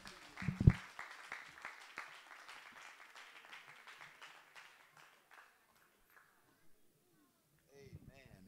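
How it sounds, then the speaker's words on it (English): A church congregation claps together in a burst that quickly fades to scattered claps, with a voice speaking over the room as the applause dies away. "Give the Lord a hand clap of praise before you're seated today"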